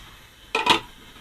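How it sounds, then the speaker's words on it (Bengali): A metal lid set onto a pot of goose meat cooking over high heat on a stove: a quick pair of clanks, a brief clatter then a ring, close by and alone with no talk. "তো আমি এখন এটা ঢাকনাটা লাগিয়ে দিচ্ছি"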